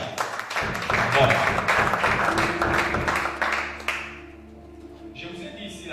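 A church congregation claps together in a dense burst of applause that fades after a few seconds, followed by a low hum and faint voices.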